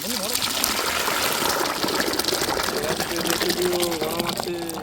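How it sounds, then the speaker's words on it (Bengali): Dal pours into a cooking pan of spiced masala with a sustained gushing, splashing rush of liquid, loud and close, while a voice talks over it. "এখন আমরা ডালটাকে ঢেলে দেবো।"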